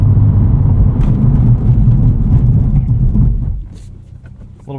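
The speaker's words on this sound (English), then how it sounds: "Let's do a quick braking test here." A 2024 Cadillac CT4-V Blackwing with a six-speed manual and all-season tyres brakes hard. A loud, steady road and engine rumble drops away in its last second as the car slows, with no talking.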